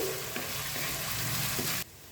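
Small pieces of a single chopped potato fry in oil over low-to-medium heat, giving a dense, steady sizzle that cuts off abruptly near the end.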